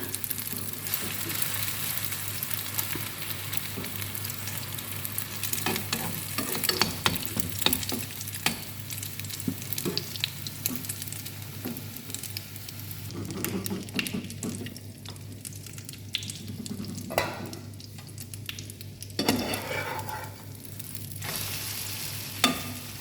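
Vegetable and egg batter fries in a generous amount of oil for a Korean-style snack, sizzling and crackling steadily throughout with occasional stirring clatter and bursts of spitting, close and alone without talk.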